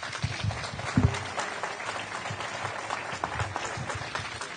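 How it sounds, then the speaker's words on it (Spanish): An audience at a talk breaks into applause, a scattered round of clapping at moderate distance with a few louder claps near the start. "Un fuerte aplauso y un gran agradecimiento"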